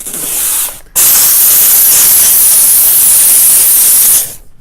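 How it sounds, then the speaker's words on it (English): Clothes steamer hissing a jet of steam onto window glass, loud and close: a short burst, a brief gap, then one long steady spray of several seconds that cuts off at the end. "So I'm putting some steam on the glass so you can kind of see the suction cup mark."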